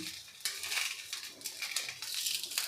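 A fasting breakfast pancake being flipped and loosened in a pan, with close, light scraping and clinking of a spatula against the pan in short, uneven bursts over a faint sizzle.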